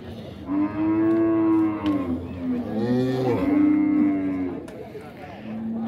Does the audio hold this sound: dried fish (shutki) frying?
no